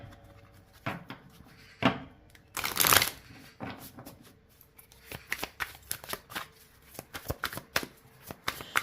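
Tarot cards are shuffled by hand in a steady run of crisp riffling and slapping bursts, close and fairly quiet, growing busier toward the end.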